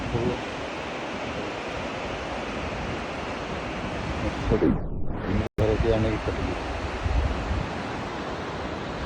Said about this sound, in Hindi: वो नदी आ रही है।